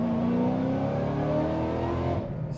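A 2014 Shelby GT500 with 630 horsepower accelerates hard, its engine roaring loud and close with a steady rising drone, easing off slightly at the very end.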